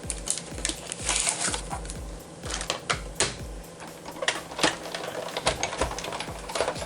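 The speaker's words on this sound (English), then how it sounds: "I'm just going to use the Sizzix Tattered Florals die. And I'm just going to cut out some of these flowers." A Sizzix die cutting machine cuts flowers with a Tattered Florals die, giving a close, steady run of rapid mechanical clicks and thumps for several seconds, with no voices.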